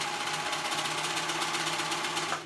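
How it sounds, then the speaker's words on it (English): A sewing machine runs fast and steady with a rapid mechanical whirring rhythm, close up, stitching through a cheap zipper, then slows and stops at the end. "Did you hear my sewing machine give me a little hey when I went through my zipper?"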